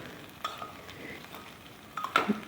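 A spoon stirs vegetable curry for chapati in a pot, with a faint soft sizzle and a few scraping strokes, the loudest near the end.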